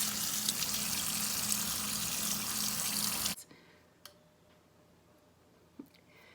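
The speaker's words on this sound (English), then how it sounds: "So you're gonna wanna go ahead and wash all your blueberries." Blueberries are washed under a running kitchen tap, a bright steady gush of water for a few seconds that stops abruptly, leaving quiet room tone with a couple of faint drips or clicks.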